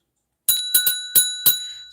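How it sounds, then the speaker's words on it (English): A bright bell rings four quick metallic strikes after a moment of silence, each tone ringing and decaying, loud and close, marking the start of a session. "So the bell has rung"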